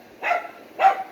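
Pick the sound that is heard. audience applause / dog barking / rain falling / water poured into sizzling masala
dog barking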